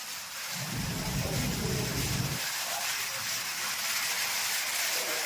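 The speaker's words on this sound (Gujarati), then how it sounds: "જોરદાર વરસાદ" Heavy rain hisses steadily throughout, with a deep low rumble of thunder rolling in near the start and fading after a couple of seconds.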